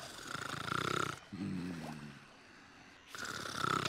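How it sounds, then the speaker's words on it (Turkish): A character snores in the video game Call of Juarez: Gunslinger, one slow, deep rasping snore standing alone between stretches of other game audio. "Lan oğlum horlama, hikaye anlatıyor şurada."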